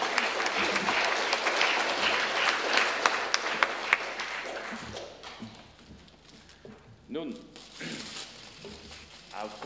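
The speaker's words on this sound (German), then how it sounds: "Applaus." An audience at a Rheumaliga Schaffhausen talk on knee arthritis breaks into dense, sustained applause that thins and fades to scattered claps toward the end.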